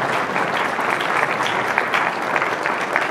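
Steady audience applause fills the room at a temple gathering, a dense continuous clapping that holds at an even, loud level throughout with no voices over it.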